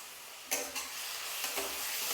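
Finely chopped green chilies sizzle steadily in a hot pan with oil, with a few soft spatula strokes stirring them through the continuous frying hiss.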